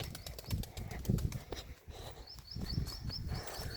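Several pigeons flap their wings as they take off and fly over a farm field, a flurry of close wingbeats in bursts with faint birdsong in the background.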